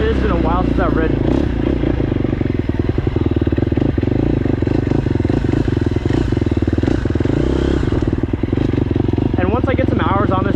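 A KTM 250SX-F four-stroke dirt bike engine runs loud and close throughout, its revs rising and falling in steady blips with a rough, clattering edge.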